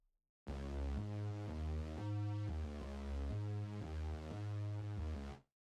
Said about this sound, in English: we start this bass ostinato, which sounds like this